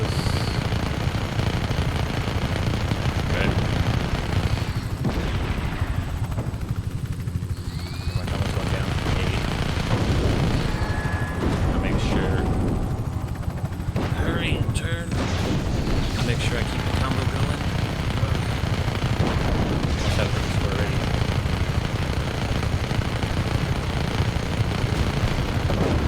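Helicopter rotor and bursts of automatic gunfire with explosions in the Just Cause 3 video game, loud and continuous throughout, with someone talking over the action.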